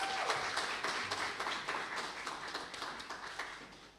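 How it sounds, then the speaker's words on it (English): An audience claps for a woman at a brunch event, a fairly quiet, continuous patter of applause across the whole stretch with no one talking over it. "Give her a round of applause."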